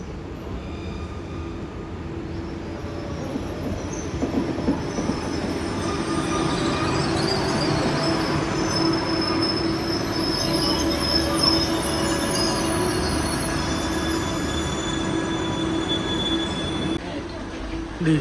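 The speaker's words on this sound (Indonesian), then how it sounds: "Nah itu keretanya, dia kayaknya yang ini. Oh iya bener sih, dia agak kencang, dia perlahan akan berhenti di sini." A commuter train pulls into Bandar Tasik Selatan station in Kuala Lumpur and slows, with a steady rolling rumble and thin wheel squeal that fades toward the end while people talk nearby.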